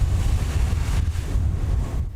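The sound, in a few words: strong wind gusts at a house fire scene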